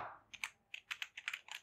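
Python code being typed on a computer keyboard, a quick irregular run of light, close key clicks heard alone.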